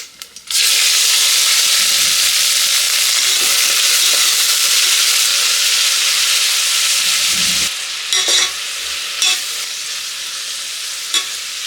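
Sliced onions fry in a pan for methi pulao, a loud, steady broadband sizzle that runs continuously, with a few scraping stir strokes near the end and no talk.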